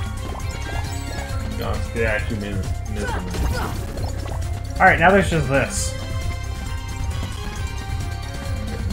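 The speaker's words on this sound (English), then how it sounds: "Water bullets. See that." A water bullets attack in Kingdom Hearts gives off splashy, dripping liquid effects in short bursts, set under a steady background tone while a person talks over the game.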